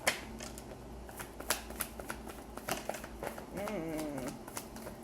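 Tarot cards are shuffled by hand in a steady run of crisp riffling snaps and slides, close and fairly quiet, with a short voiced sound rising near the end.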